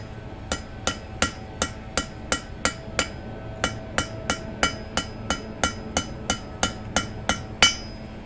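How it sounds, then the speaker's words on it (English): Hand hammer striking the corner of a hot steel bar as it is rolled, forging a chamfer while making a hold fast: about twenty sharp, ringing metallic blows in a steady, even rhythm, close and loud, with no talking. "all I'm doing is just hitting the corner on this as I roll the piece around."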